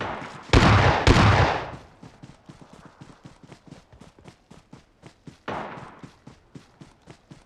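A bomb explodes in a shooter video game with two loud, close blasts, followed by a long rapid train of evenly spaced gunshots and another heavier burst partway through.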